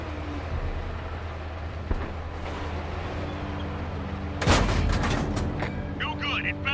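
A tank shell strikes and ricochets off armor during World of Tanks combat. It is a single sharp, loud impact over a steady engine rumble, followed by a brief voice.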